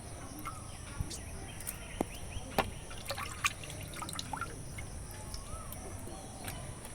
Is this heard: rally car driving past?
no